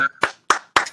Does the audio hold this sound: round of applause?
yes